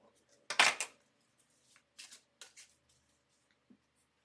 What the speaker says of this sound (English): Gonna shuffle it up right now.